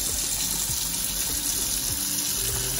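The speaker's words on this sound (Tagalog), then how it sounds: "Lagyan ng tubig. Lagyan ka ng tubig." Water gushes steadily over freshly caught, still-moving fish such as grouper, rabbitfish and cuttlefish, a continuous close splashing pour like a running tap with no talk.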